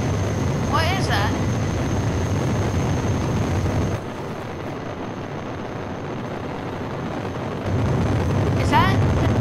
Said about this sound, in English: Is that the jet engine?